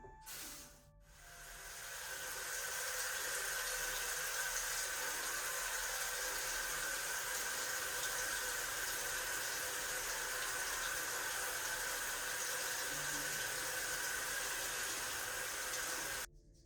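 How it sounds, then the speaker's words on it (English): Tap water runs steadily and fairly loud for about fifteen seconds as a face is rinsed at a bathroom sink before a wet shave, a continuous hissing spray that starts after a brief bump and cuts off at the end. "Let's go ahead and rinse the face and get to shaving."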